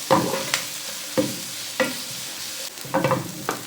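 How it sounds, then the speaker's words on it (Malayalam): Finely sliced onion sautés in a pan as it is stirred, with soft sizzling underneath and several sharp scraping strokes of a spoon at irregular intervals, close and clear, with no voices. "ഇനി ഉള്ളി ഒന്ന് ചെറുതായിട്ട് വാട്ടിയെടുക്കാം."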